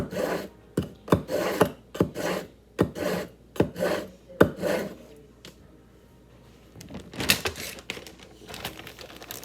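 A kitchen knife is sharpened in a rapid series of rasping strokes, roughly a dozen evenly spaced scrapes up close, then a pause followed by a few more irregular strokes.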